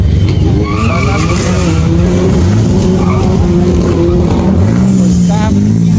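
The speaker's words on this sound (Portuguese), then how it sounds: "os caras acelerando na pista aí" A Toyota Supra MK4 and a Nissan GT-R R35 drift on a track at night, engines roaring loud and close while tires squeal and skid in long sweeping runs, with faint voices in the background.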